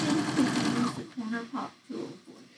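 A sewing machine hums steadily as it stitches along a marked line on a quilt square, then breaks into a few short stop-start bursts, close and fairly loud, with a person talking over it.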